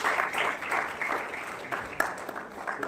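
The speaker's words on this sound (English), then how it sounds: "Let's have a huge round of applause for Ashiki Siddha from Christ College." Audience applause at a national-level oratory contest group discussion round, a steady wash of many hands clapping at moderate volume with no talk over it.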